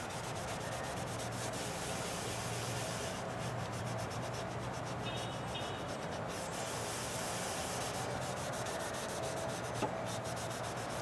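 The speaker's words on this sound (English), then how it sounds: "it says just rub it in there till it's cloudy" Meguiar's compound rubbed by hand onto a car headlight lens, a steady close, continuous soft rubbing and scrubbing sound throughout, with no talking.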